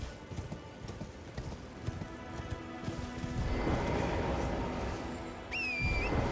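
Horse hooves pound in a fast galloping rhythm in the video game Elden Ring, growing denser and louder midway, ending with a bright rising whistle-like tone.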